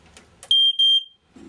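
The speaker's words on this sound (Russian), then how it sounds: "это пожарный датчик, он автономный от батарейки, да?" Battery-powered standalone smoke detector inside an IVECO-chassis camper gives two loud, piercing electronic beeps in close succession, near and clear after brief talk, then silence.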